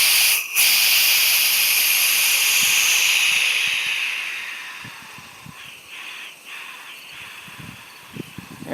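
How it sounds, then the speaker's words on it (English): Steam hisses out of a steamer at 15 psi, a loud, broad, steady rush that fades after about four seconds into softer, sputtering hiss with faint clicks. "that was steam coming out"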